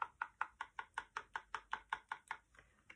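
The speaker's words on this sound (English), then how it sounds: "I'm going to take my stir stick and I'm going to really stir this well" A stir stick working rust-effect paint in a can, about fifteen evenly spaced knocking strokes in a quick steady rhythm, close and fairly quiet.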